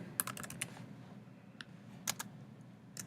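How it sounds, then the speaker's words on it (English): A name being typed on a computer keyboard: a quick burst of soft key clicks followed by a few scattered taps, faint and close, with no speech. "So you'll type your name"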